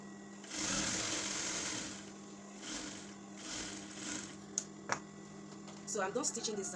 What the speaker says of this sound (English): So I'm done stitching this side.